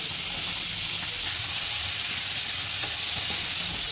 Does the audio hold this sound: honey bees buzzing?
no